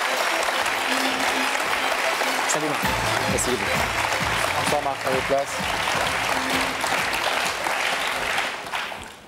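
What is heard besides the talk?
applause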